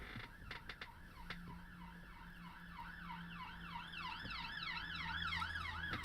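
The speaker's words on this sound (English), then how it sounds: "Police car's gone away." A police car siren passing outside, its wailing rising-and-falling tone distant at first and growing gradually louder, with a few faint clicks and creaks nearby.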